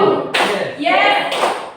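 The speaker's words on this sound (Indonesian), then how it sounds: "Tepuk 1, tepuk 2, yes. Tepuk 3, full." A classroom of students performs a rhythmic counting clap, with several sharp group claps sounding close and loud, mixed with chanting voices.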